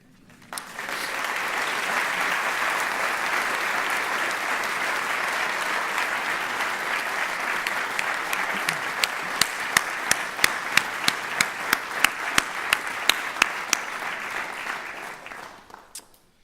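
Sustained audience applause at a university alumni awards ceremony, a dense, steady wash of clapping filling the hall, with a few sharper individual claps standing out near the end before it fades.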